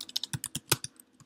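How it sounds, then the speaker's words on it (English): Rapid typing on a Mac computer keyboard in a quiet room, a run of close, crisp key clicks in an irregular rhythm with a few louder strokes. "start typing"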